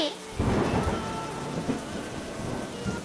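Cartoon thunderstorm: a loud rumble of thunder breaks in early, then steady heavy rain pours on, close and continuous, with no voices.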